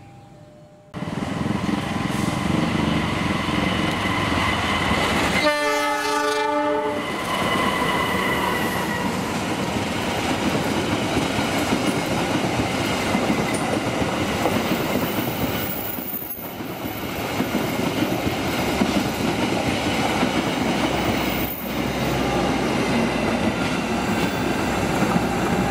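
Locomotive-hauled passenger train rolling around a big curve at Cikarang, Indonesia, loud and steady for most of the pass, with a brief horn-like tonal burst early on and wheel noise throughout.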